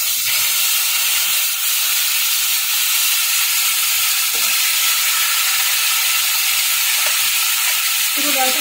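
Lentil dal poured slowly into a hot mustard and black cumin tempering, giving a loud, continuous, steady sizzle and hiss, close up and without talking.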